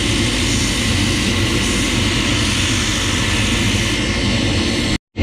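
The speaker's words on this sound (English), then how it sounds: "we're going to just start by just grinding that piece off" An angle grinder grinds down the side of a shoe sole while a raised shoe is being shaped, giving a loud, steady, unbroken roar that stops abruptly at the very end.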